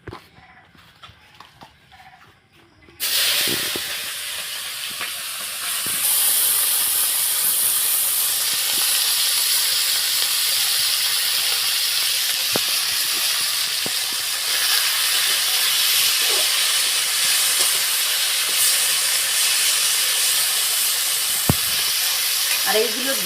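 Fish frying in a pan at home: after about three seconds of near quiet, a loud, steady sizzle starts and runs without a break. No one speaks.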